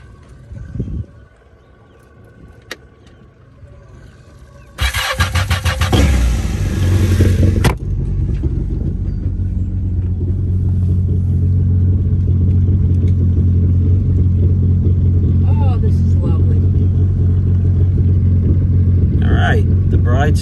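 Boat engine with a fresh battery starting for the first time, a cranking burst followed by a steady low rumbling idle that holds on, with people talking over it.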